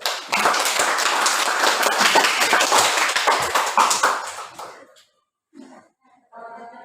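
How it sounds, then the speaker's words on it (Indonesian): Students in a classroom clap together in a dense, steady burst for several seconds before it stops abruptly, followed by brief quiet and a few faint voices. "Tepuk tangan dulu."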